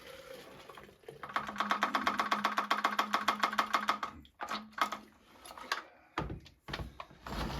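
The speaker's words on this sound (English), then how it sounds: "I'm gonna kind of swirl it up a little bit, and then we're gonna dump it out" Fuel is swirled inside the gas tank of a Stihl MS462 chainsaw, making a quick run of regular sloshing pulses for about three seconds, followed by a few sharp clunks and handling knocks.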